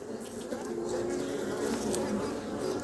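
Honeybees buzz in a steady, dense drone throughout a spring inspection of an overwintered hive, close and continuous with no talk.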